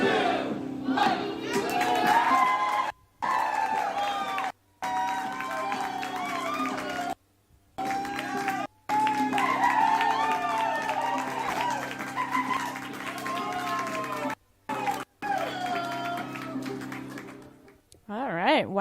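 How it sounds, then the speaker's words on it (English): A large crowd at a city championship in Boston whoops, hollers and applauds loudly and continuously, with a few brief drop-outs and a swell near the end. "Wild whoops and hollering and tons of applause"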